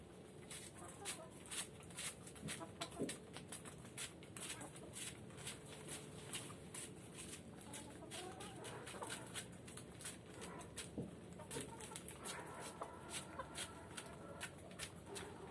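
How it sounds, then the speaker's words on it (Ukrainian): Chickens cluck and chatter in a busy, irregular stream close by, with quiet voices now and then underneath. "Мої курчатки, мої дівочки."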